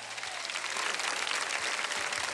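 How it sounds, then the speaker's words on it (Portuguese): A church congregation applauds at a large evangelical gathering in Manaus's Sambódromo, dense sustained clapping from a big crowd that swells slightly louder and holds steady without speech. "Aplauda o Senhor."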